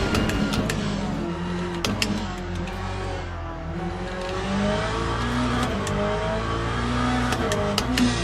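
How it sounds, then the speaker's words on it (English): A GT3 race car engine in a racing video game drones and revs continuously, tinny and raspy, pitch rising and falling through gear changes, with sharp clicks punctuating the steady mechanical roar. "Engine sounds a little bit tinny and raspy"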